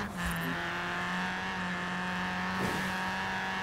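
Engine note of a drift-built pocket rocket car in Forza Horizon 4, a steady loud drone held through a sideways slide in fourth gear, with a brief squeal near the start and a bump in the middle.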